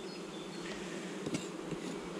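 Honeybees buzz at a home hive during an April swarm and colony inspection, a dense continuous drone that stays steady and close throughout, with no voices.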